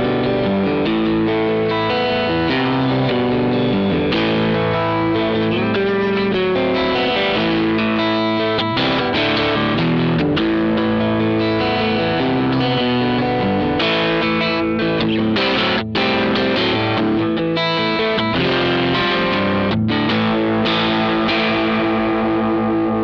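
Electric guitar played through a Tonefreak Naked OD overdrive pedal with heavy reverb, giving loud, continuous distorted chords and riffs that ring out and sustain across the whole stretch, with no voices.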